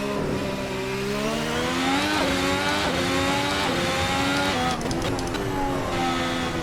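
A V10 Formula 1 car at high revs with its DRS flap closing under braking: a loud, continuous onboard engine howl whose pitch falls in steps as the car slows, then climbs again, with no talk.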